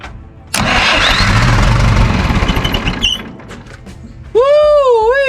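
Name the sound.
John Deere 3020 tractor engine starting with new starter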